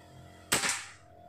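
A PCP air rifle fires a single sharp shot, a brief loud crack with a short ringing tail against a quiet background.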